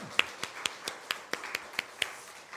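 A church congregation at a Sunday worship service claps in scattered, distinct slaps, about ten separate claps spread unevenly over a few seconds, fairly quiet and in a hushed room with no one speaking.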